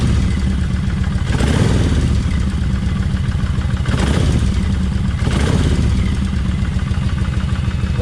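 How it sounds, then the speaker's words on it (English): Kawasaki Vulcan 1600 motorcycle with a freshly cleaned crankcase, idling loudly up close and revved three times in evenly spaced bursts, each rising and settling back to a clattery idle. "Now I'm fixing to rev the motor"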